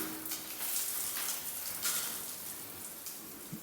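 Water spraying from a shower head in a renovated top-floor bathroom, a soft continuous hiss of spray with faint uneven patters, quiet and close, no voices.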